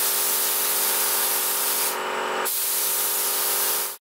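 A spray gun lays chassis paint onto an axle case, giving a loud, steady, close hiss that runs for about four seconds, with a brief sharper change in tone midway, then cuts off abruptly.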